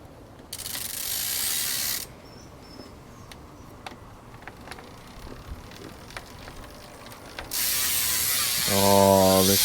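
A Ride Out Supply freewheel on a 26-inch Hutch Pro Racer bicycle spins with a fast, buzzing ratchet clicking in two sustained bursts, close up, with quieter handling ticks between them.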